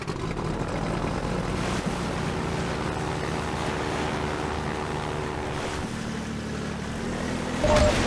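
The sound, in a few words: boat driving on water in the video game Half-Life 2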